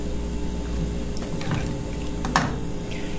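Water is poured into a pot of beans cooking on the stove, a soft, close liquid splash and trickle over a steady kitchen hum.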